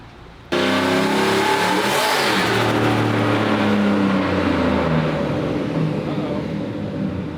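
Car engine on a dyno starting abruptly from near quiet into a loud rising rev, climbing through the gears with a brief shift dip, then holding a strong sustained roar that eases slightly at the end.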